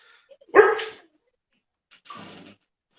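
A dog barks twice, close and fairly loud, with one sharp bark followed by a second, rougher bark a moment later amid silence.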